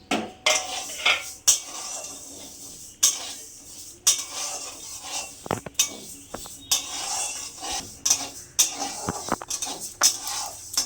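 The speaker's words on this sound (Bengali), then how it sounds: "একটু শুকনো খোলায় ভেজে নিচ্ছি মুগ ডালটা।" Dry mung lentils rattle and scrape against a dry pan as a utensil repeatedly stirs them, producing rhythmic clattering strokes with occasional sharper knocks.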